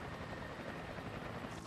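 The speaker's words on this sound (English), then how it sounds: "They look like military choppers." Military helicopters fly over a jungle in a Transformers Energon cartoon, a faint, steady rotor drone hanging in the background without any talk.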